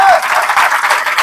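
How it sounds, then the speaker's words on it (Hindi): Loud applause from a seminar audience at a business training talk, a dense continuous wash of many hands clapping close and full for the whole moment, with voices mixed in. "तो अपने लिए जोरदार तालियां बजा लीजिए"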